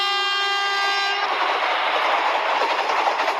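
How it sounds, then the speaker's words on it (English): A fast Indian train rushes past a station, opening with a loud horn blast that gives way to a roaring, rattling wash of wagons passing close by. "There's a speedy train. We're just crossing the station."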